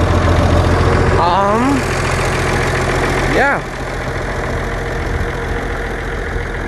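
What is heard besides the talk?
tractor engine idling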